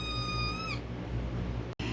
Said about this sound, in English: Say hello, kittens.